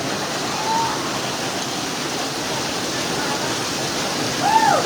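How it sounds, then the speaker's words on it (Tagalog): Typhoon Carina floodwater pours down from the mountain in a steady, broad, close rushing roar, with a faint voice briefly audible over the torrent. "sa bundok din po galing yung mga tubig"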